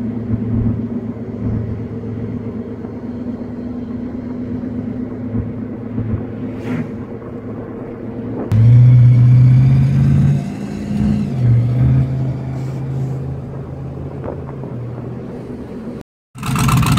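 A car engine rumbles steadily on a single-lane road, with a louder deep surge of revving from a vehicle close behind about halfway through, then low idling rumble continues before a brief cut.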